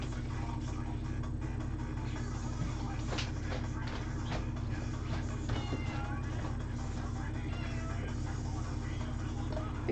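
A house cat meows a few times over a constant low hum and background chatter, with people talking nearby.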